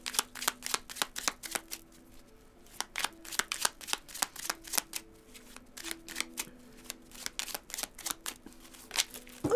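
Oracle cards are shuffled for a tarot-style reading in a steady stream of crisp, close riffles and flicks, quiet and continuing throughout with no other sounds.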